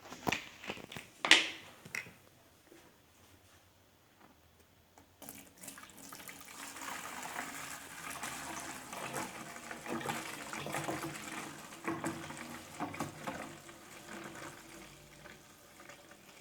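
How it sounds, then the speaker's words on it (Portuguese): Water poured into a bottle, starting with a short splash and clink, a quiet pause, then a steady gushing, gurgling pour that keeps running at moderate loudness to the end, with no talking over it. "Será que eu consigo, gente, colocar toda a água do planeta nessa garrafa?"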